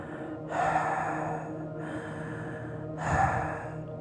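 A voice imitating heavy, rapid breathing: three loud, rasping breaths in a row, close up, each lasting about a second, with short pauses between.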